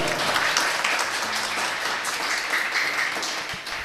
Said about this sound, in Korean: 다시 한번 큰 박수를 좀 부탁드리겠습니다.